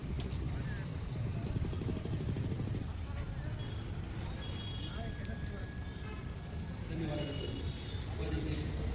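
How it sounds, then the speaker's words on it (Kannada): A KSRTC bus from the Mundgod depot arriving at a busy Karnataka bus stand, its low diesel engine rumble steady in the foreground. Traffic noise and occasional horn toots sit around it, and people talk nearby. "ಮುನಗೋಡು ಡಿಪೋರ್ ಗಾಡಿ ಬಂತು ನೋಡಿ ಅಲ್ಲೇ."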